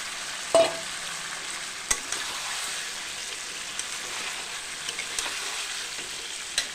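Pre-fried potatoes dropped into a pan over low-medium heat for a chicken dish: a steady, soft sizzle with a sharp clatter as they land and a few light scraping knocks afterward.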